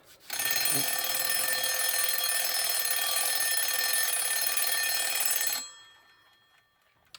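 A Westclox Big Ben Style 1 alarm clock, freshly reassembled, rings with a loud, continuous metallic bell clatter for about five seconds, its case buzzing and vibrating, then stops abruptly into near silence.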